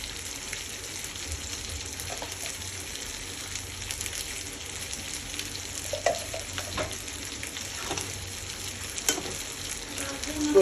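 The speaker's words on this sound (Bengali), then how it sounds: "এখন আমি এখানে ঘি দিয়ে দেবো।" Ghee sizzles and crackles in a pan of Bengali shukto curry, a steady soft frying hiss with occasional louder pops and stirring sounds, moderately quiet throughout.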